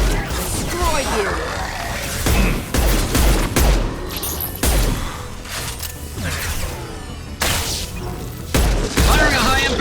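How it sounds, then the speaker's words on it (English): Gunfire in the Mass Effect 2 video game, with repeated bursts and heavy shots at irregular intervals, loud and near, mixed with booming impacts and game combat effects. "Firing a high-impact shot!"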